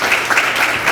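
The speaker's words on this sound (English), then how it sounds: "yes, early applause are definitely warranted" A school audience at a Teacher of the Year ceremony breaks into a brief burst of clapping, a short, moderately loud patter of many hands lasting under a second.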